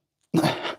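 A single sudden sneeze bursts out close and loud after a moment of silence, then trails off quickly.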